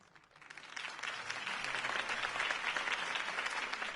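A crowd at Harvey Dent's campaign rally in Batman: The Telltale Series breaks into applause, starting low and swelling into a steady, fairly distant wash of clapping that continues for about four seconds.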